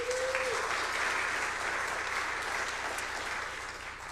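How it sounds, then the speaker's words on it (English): A church congregation applauds its election volunteers, a sustained wash of clapping from many hands that holds steady and slowly tapers, heard alone in a large room. "please give a big round of applause for those amazing volunteers"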